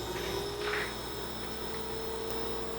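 A portable cooktop gives off a steady electrical hum at close range, constant and unbroken for a few seconds.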